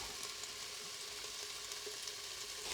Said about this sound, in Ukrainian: До розігрітої олії додаємо цибульку